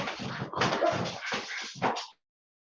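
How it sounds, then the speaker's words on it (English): A dog fenced into a room barks and whimpers in a short, close, agitated burst of yelps and whines lasting about two seconds before falling silent. "She barking because she can hear me down here."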